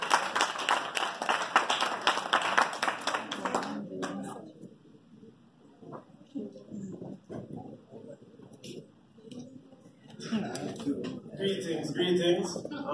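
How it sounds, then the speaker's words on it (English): An audience applauds a guest speaker, the president of an organisation, at a Netball Jamaica funding event; dense clapping fills the opening seconds, gives way to talk, then swells again near the end. "Give him a round of applause."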